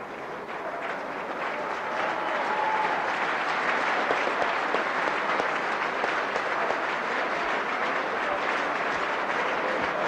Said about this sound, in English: Generous applause given to the player, recognising his part that he's taken in this game this afternoon